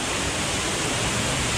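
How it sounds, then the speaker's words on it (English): Waterfall roaring inside Petty Johns Cave, a steady, loud, dense rush of falling water filling the whole clip with no pause and no voices. "we made it to the second waterfall"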